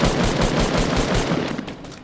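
Rapid automatic gunfire in a Fortnite duo tournament match, a loud close burst of evenly spaced shots that fades out after about a second and a half.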